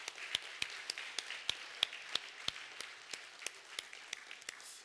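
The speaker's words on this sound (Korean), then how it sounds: "우리 하나님께 한번 감사의 박수 한번 올려드리겠습니다" Church congregation clapping in thanks to God during Sunday worship, heard faintly as a sparse run of distinct, evenly spaced sharp claps, about two per second, over a quiet room.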